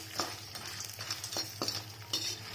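Crushed dried turmeric root frying in hot oil for homemade garam masala, a soft close sizzle broken by several scraping stirs of a spoon against the pan.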